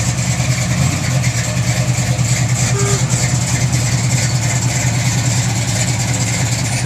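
Ford F1 pickup truck engine idling nearby with a steady, loud, even low-pitched rumble and a constant pulsing rhythm throughout.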